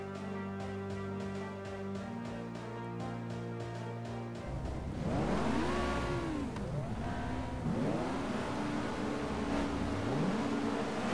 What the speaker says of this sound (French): Le départ de la première course de la saison,